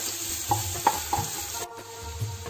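Onion, ginger and garlic frying in a pan while being stirred, with a steady sizzle and several sharp scraping clinks of a spoon against the pan, near and fairly quiet.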